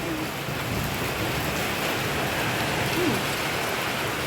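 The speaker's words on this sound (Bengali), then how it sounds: "খুব বৃষ্টি এতক্ষণ তো ঝড় হলো এখন ঝড়টা বন্ধ হয়েছে বৃষ্টি" Heavy rain pours steadily after a storm, a dense, loud, unbroken hiss of water drumming on surfaces nearby, with no voices over it.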